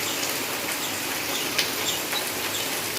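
Rain falls on a kitchen garden planted with okra seedlings, making an even, close wash of pattering drops with a faint bird call somewhere behind it.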